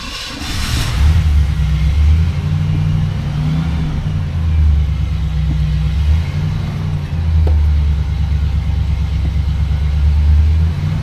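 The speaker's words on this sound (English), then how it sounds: "we're gonna go ahead and get started in the test drive on the 72 Lesabre" Engine of a 1972 Buick LeSabre with about 98,000 miles, rumbling steadily from inside the car on a test drive, a deep low drone with gentle swells as the throttle changes, continuous and fairly loud with no talk.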